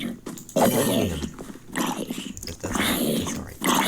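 Wolf growling in Minecraft, a few rough low growls and barks coming close and loud amid busy game noise, with a voice calling out over it.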